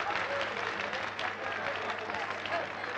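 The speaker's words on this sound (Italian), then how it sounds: "applauso!" Steady applause from a crowd fills a scene in the Italian crime film Il camorrista, dense and continuous for about three seconds, with a murmur of voices mixed underneath.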